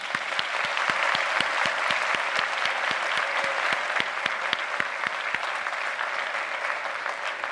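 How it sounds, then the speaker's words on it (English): Audience applause fills an awards ceremony hall, a steady dense crowd of many hands clapping continuously at even loudness, with no voices over it. "Now you can applaud."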